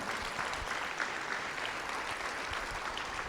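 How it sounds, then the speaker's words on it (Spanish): Congregation at an evangelistic campaign service clapping loudly and continuously, a dense even wash of applause with no break. "Si le va a aplaudir, hágalo fuerte."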